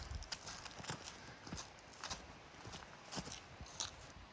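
Horses at a mountain elk hunting camp shift and step, scattered hoof knocks and clops at irregular intervals, fairly close but quiet, with some rustling and chewing-like sounds between.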